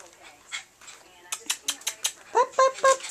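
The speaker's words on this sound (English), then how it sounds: "Yeah, there's that little bark." Two-week-old puppies give tiny high-pitched barks and whimpers in a quick run of short yelps, close by, with a person speaking softly around them.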